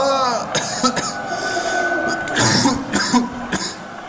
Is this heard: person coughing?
yes